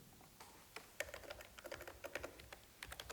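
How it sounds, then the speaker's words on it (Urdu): Quiet, rapid keystrokes on a computer keyboard clatter in an irregular stream of soft clicks while a logo design is being made, with no voices. "تو یہاں پر مجھے ٹائپ کرنا ہے کلودنگ"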